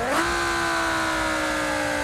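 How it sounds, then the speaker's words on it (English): Lamborghini Huracan engine in BeamNG Drive, a steady loud harmonic whine that dips then settles as the revs drop on a downshift, sustained alone for about two seconds. "Ooh, them downshifts."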